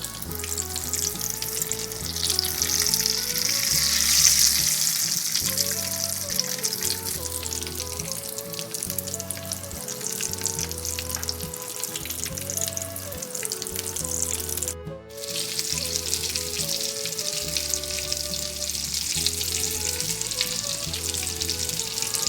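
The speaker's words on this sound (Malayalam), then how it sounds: "ജസ്റ്റ് ഒന്ന് ഒരു ഷാലോ ഫ്രൈ ചെയ്താൽ മതി" Potato fingers shallow frying in oil, a steady close sizzle and crackle running throughout under prominent background music, with a brief dropout near the middle.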